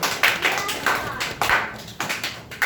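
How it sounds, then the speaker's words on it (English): An audience at a school public speaking competition claps for a student speaker, a busy uneven patter of many hands close by, with a few voices mixed in. "Well done, clap for Aaron."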